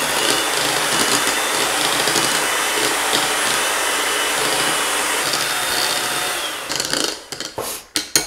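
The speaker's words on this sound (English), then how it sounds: "I'm going to turn my beater back on and mix that in" An electric hand beater whirs loudly and steadily as it mixes Philadelphia cream cheese into a bowl, then shuts off, leaving a few knocks and clatters at the end.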